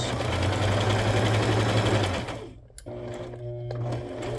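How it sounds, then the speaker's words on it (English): Sewing machine stitching around a book-page pocket with black thread, alternating zigzag and straight stitches; a steady close mechanical whir runs about two seconds, stops briefly, then resumes. "I'm going to come actually all the way around my pocket. I'm just going to alternate between a zigzag and a straight stitch"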